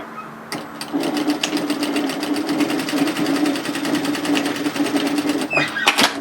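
A sewing machine stitches a skirt seam with a steady, fast needle rhythm that runs continuously for several seconds after a brief start, close and fairly loud.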